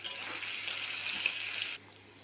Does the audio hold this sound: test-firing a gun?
no